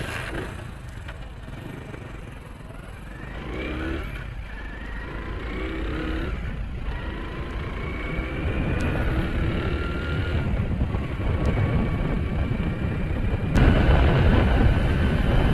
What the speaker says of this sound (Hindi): अब बाइक को स्टार्ट करते हैं, हम चेक करते हैं कि कितनी स्पीड इसकी जो है वो ये अचीव करती है।